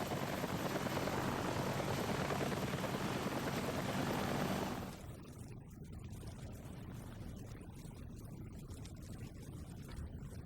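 A helicopter in the survival horror game Daymare 1998: a loud, close rotor and engine roar that drops abruptly to a quieter, steady drone halfway through, with no voices.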